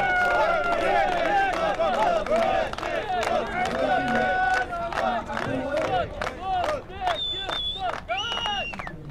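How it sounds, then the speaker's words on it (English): Spectators at the Safe Route sapper contest of the International Army Games cheer for Uzbekistan's team with excited shouts and bursts of clapping, a lively crowd din that stays busy throughout. "just a big applause"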